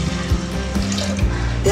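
Water runs steadily into a pressure cooker holding dal and rice for khichdi, a continuous close pouring stream lasting throughout with faint kitchen clatter and no talk.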